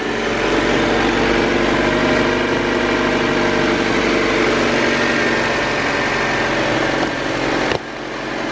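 A Honda Civic with a blown head gasket idles steadily right after starting, a close, continuous engine hum that holds level for about eight seconds before dropping slightly quieter near the end.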